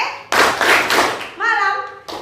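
Hands clap in a classroom setting, a few sharp slaps in quick succession followed by a brief voiced phrase, close and fairly loud.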